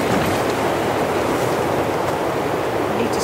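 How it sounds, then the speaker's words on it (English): Steady wind roar at a winter campsite in the Adirondack Mountains during a storm, a constant broadband rush with no breaks across the whole stretch. "hopefully you can hear the wind"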